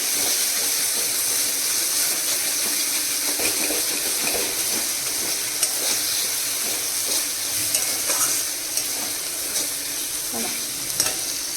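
A fish masala for koi fish sizzles loudly and steadily in a pan with a little water added, giving a dense hiss and bubbling with occasional stirring scrapes throughout.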